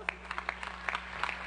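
A small scatter of hand claps at a gathering in the Teatro Municipal in Caracas, sparse and uneven rather than a full ovation, a few sharp slaps spread over a second and a half at moderate distance.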